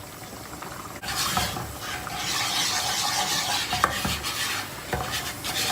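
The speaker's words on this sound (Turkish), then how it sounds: "Çok rahat bir şekilde karıştırılacak." An oily mixture stirred in a pan for an aubergine dish, a steady close sizzle and hiss with soft scraping strokes and a few light knocks.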